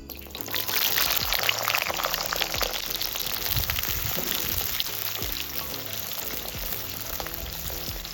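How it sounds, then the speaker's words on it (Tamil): Whole small onions frying in hot oil, a steady dense crackling sizzle that holds loud and close throughout with no talk. "இப்போது எண்ணெய் சூடாயிருச்சு வெங்காயம் சேர்த்துக்கிறேன்"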